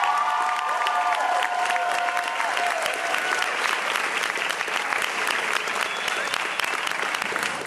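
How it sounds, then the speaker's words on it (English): Sustained audience applause at a high school signing day event, dense steady clapping with some cheering mixed in, loud and continuous throughout. "Can we give them a round of applause?"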